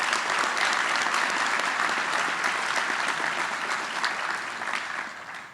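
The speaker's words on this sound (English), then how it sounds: "Round of applause for Kevin." Sustained applause from a convocation audience at Drexel University, a dense, steady wash of clapping for the full length that tapers slightly toward the end.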